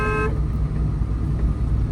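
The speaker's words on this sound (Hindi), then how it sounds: "लॉन्ग हॉर्न प्रेस करो।" A car horn sounds a short steady tone at the start, then cuts off, leaving loud rumbling engine and city traffic noise for the rest of the moment; no one speaks.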